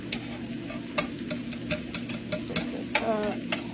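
Chicken frying in butter in a pan for chicken Alfredo, a steady sizzle with frequent sharp crackles and spits, and a utensil occasionally scraping the pan up close.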